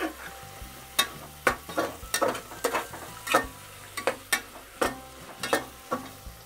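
Raw peanuts and peeled, sliced potatoes stirred in a pan for masale bhaat, a series of sharp, close scraping and clacking spoon strokes over a light sizzle, irregular but frequent.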